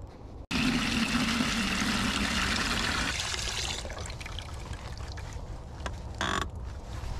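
Water splashes and pours steadily into a bowl for dogs during a morning walk, a continuous close trickling rush that thins out partway through and ends in a few scattered splashes.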